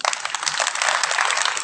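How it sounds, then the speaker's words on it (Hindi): Audience applause at a Hindi poetry gathering during a festival kavi sammelan, a brief burst of dense, steady clapping from many hands at moderate loudness. "तो इन सब साथियों के लिए आप जोरदार ताली बजाइए"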